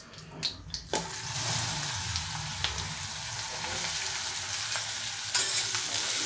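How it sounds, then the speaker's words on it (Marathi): Chopped cabbage drops into hot oil tempered with asafoetida for a tomato cabbage stir-fry. A few clatters are followed by a loud, continuous sizzle with occasional utensil scrapes as the pan is stirred. "कोबी थोडा थोडा घालायचा आणि हलवून मग परत राहिलेला कोबी घालायचा"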